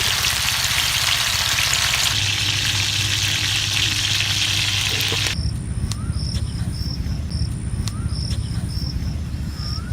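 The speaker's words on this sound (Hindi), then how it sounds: "इसी तरह बाकी स्टिक भी फ्राई कर लेंगे हम।" Chicken shashlik sticks fry in a pan with a loud, steady sizzle close up, which drops off midway and leaves quieter crackling with faint tones in the background.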